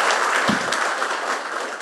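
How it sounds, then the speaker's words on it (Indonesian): An audience applauds at Megawati's political speech event, a dense, steady wash of many hands clapping that fills the whole short stretch at even loudness, with a brief low thump partway through. "Ayo tepuk tangan yang hebat ngono lho."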